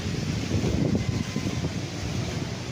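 Strong wind on a farm lot beside a river in Liliw, Laguna buffets and roars steadily, with gusty low rumbling against the microphone and no voices.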